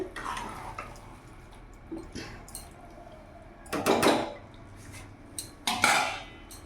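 Katla fish head curry stirred in a pot, with a few scattered scrapes and clinks of a utensil against the metal, the strongest near the middle and end, over a quiet background.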